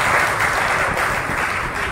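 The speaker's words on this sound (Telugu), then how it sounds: "మనమందరం కూడా ఒకసారి చప్పట్లు పెడుతూ" Crowd of devotees clapping together at Sagarmatha church in Nagarjuna Sagar, a dense, steady wash of applause held at an even, loud level for the whole stretch.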